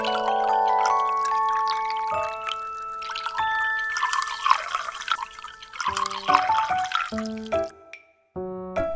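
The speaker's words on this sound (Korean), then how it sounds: "기다려봐, 물 줄게." A toy puppy playset gives water to the puppy with electronic effects: bright chiming tones mixed with dripping, trickling pouring sounds, close and clear, fading out near the end before one more short chime.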